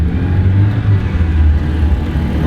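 Car engine pulling hard at full throttle on a touge mountain road in Poland during drifting, a loud continuous low drone with slight rises and dips in pitch, no talk over it.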